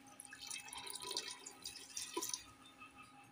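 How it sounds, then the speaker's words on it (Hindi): Water poured into a pot of dal with turmeric and salt before pressure cooking, heard as soft close splashing and dripping with liquid trickling throughout, no talk. "सो पानी ऐड करेंगे दोस्तों, पानी इतना देंगे कि दाल डूबना चाहिए।"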